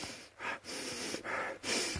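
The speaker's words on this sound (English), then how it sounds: "Take a big sniff, everybody." Several big sniffs and breaths of fajita spice mix up close, in a rhythmic series of about four strong inhales separated by brief pauses, with no talk.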